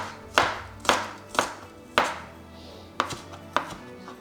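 A knife chops through spring onion greens on a cutting board, about seven crisp, evenly spaced strokes, close and loud, no talking.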